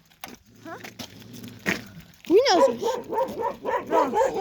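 A large dog barks repeatedly at close range in a quick series of loud, rough barks, after a stretch where people talk and call out nearby.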